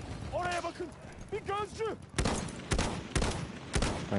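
Sniper rifle shots in the Battlefield 1 video game, four sharp loud cracks spaced about half a second apart in the second half, following two brief voiced tones near the start.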